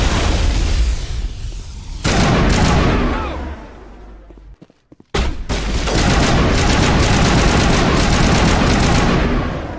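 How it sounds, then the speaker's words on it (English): Gunfire in the Mass Effect video game, dense bursts of automatic fire and heavy booming shots, a brief near-silent gap mid-way, then sustained loud shooting. "That was a good sniper shot from Garrus."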